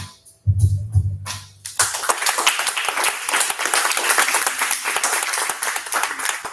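A low voice sounds briefly before audience applause breaks out and swells into a sustained round of dense clapping from a presentation crowd that continues steadily to the end.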